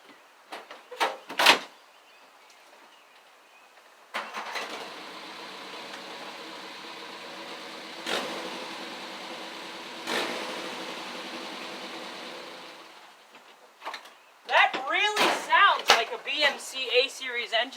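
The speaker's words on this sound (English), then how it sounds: "Okay, now that the Scion has a battery in it, let's start it up." A 2007 Scion tC with a Toyota engine cranks and catches, then idles in a steady, moderately loud drone for several seconds before the engine is shut off, with door or interior clunks before and after.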